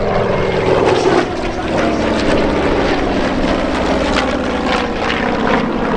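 A Hellcat warplane powered by a Pratt & Whitney Double Wasp 18-cylinder radial engine roars past at an airshow, a loud, sustained rumbling propeller drone that stays strong for six seconds with slight swells.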